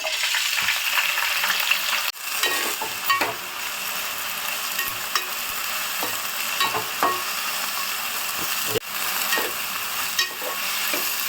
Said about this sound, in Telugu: ఈ ఫ్లవర్స్ మొత్తం ఫ్రై కావాలి సిమ్లో పెట్టుకొని ఫ్రై చేస్తున్నాము